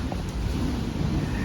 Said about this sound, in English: But it's getting real windy.